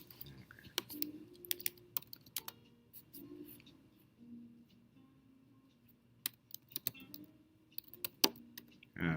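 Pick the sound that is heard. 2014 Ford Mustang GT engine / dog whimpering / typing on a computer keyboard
typing on a computer keyboard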